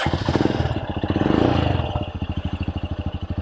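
A Royal Enfield Scram 411 motorcycle fitted with an AEW Thunder stainless exhaust, baffle in, revs up loudly. It then settles into a deep, evenly pulsing thump at close range.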